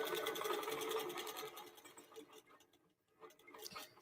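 A QBOT V3 computerised quilting machine stitches a mini-tote on a quilting frame, giving a fast, steady mechanical chatter that fades partway through and then returns faintly.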